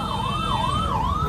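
A close, loud ambulance siren wails in a steady rising and falling cycle, heard alone.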